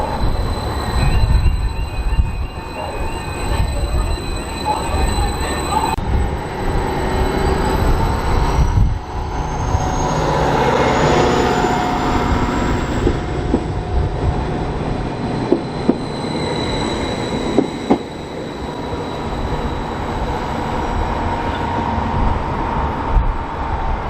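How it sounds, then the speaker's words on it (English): A passenger train, unit 755337, arrives and runs along the East Suffolk line toward Melton, a steady loud rumble of wheels on rails with squealing and clattering, no voices. "here comes our train to take us to Melton"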